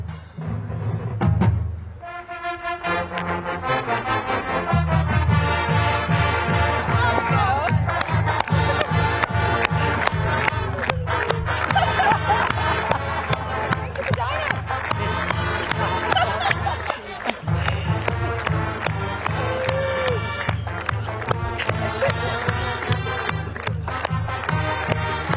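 A high school marching band plays a loud, driving fight song with pounding drums and brass, steady rhythm throughout, with crowd noise around it.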